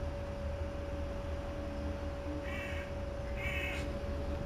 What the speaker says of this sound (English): There's fucking real life crows outside my window.